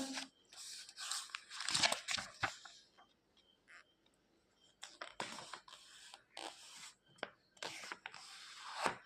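Paper being cut with scissors and folded for a national flag craft, a run of crisp snipping, crinkling bursts that come in clusters with short pauses between them, close and fairly quiet.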